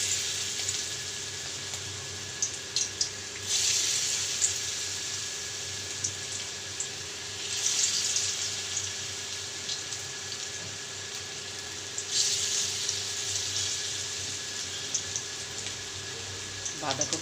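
Cabbage pakora batter, made with boiled cabbage, dropped into hot oil and frying with a steady soft sizzle and crackle that swells in a few bursts as pieces go in, under a quiet voice.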